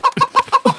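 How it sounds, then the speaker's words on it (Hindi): Rooster giving five quick, close clucks in a brisk rhythm, loud and clear with no talk. "ये मुर्गा आखिर ऊपर कैसे पहुंच गया?"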